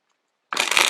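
After a short silence, a brisk riffling burst of cards being shuffled, close and fairly loud, with no talking.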